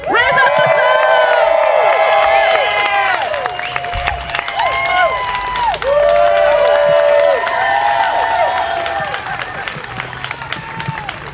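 A lively crowd at an outdoor community organizing celebration claps and cheers loudly throughout, with shouts, whoops and high-pitched voices rising above the sustained applause.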